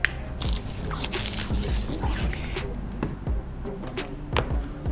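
Cleaning solution squirted into a bowl of water for sneaker cleaning: liquid dripping and squishing, wet splashes and soft squirts over a steady watery background, with no voices.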